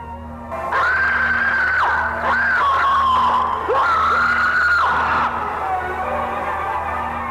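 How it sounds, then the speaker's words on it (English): Drawn-out, wavering human screams of a dying character named Ralph, loud and close, rising and breaking in several long cries before trailing off over a faint steady hum. "she hears Ralph's dying screams from the window"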